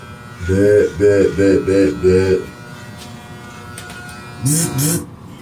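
An electric shaver runs against a chin in a series of four loud, even buzzing bursts with short gaps between them, then one more brief pair of buzzes after a pause.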